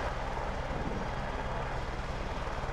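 A helicopter in Project Winter spins up to lift off, giving a steady droning rotor-and-engine hum at moderate, even loudness with no voices over it.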